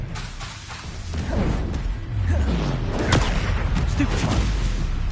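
Spell blasts from Confringo and Incendio in Hogwarts Legacy: a steady run of booming, crackling impacts and whooshes, loud and dense, with bursts layered over one another through combat noise.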